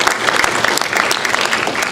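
Audience clapping at a quiz-show semifinal, a dense, lively burst of applause from a crowd, close and fairly loud, steady throughout with no speech.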